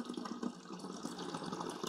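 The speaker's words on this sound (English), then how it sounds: "It'll brew whatever amount of water I put back here." Water poured into the rear reservoir of a De'Longhi espresso and coffee maker, a continuous soft splashing stream, fairly faint and close, with no speech.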